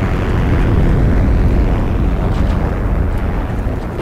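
Many aircraft fly overhead in the war game Heroes & Generals, merging into a heavy, continuous low rumbling drone that stays loud and even throughout, with no speech.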